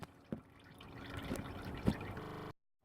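Motor oil draining from a 2015 Subaru Forester during an oil change, a close trickle of liquid running into a pan with a few drips, faint and alone before cutting to silence.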